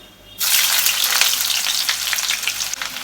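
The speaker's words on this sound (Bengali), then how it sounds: "এই দেখো পেঁয়াজ কুচিগুলো আমি তেলের মধ্যে দিয়ে দিচ্ছি" Chopped onions tipped into hot oil set off a sudden loud hissing sizzle that stays dense and steady, close up and alone.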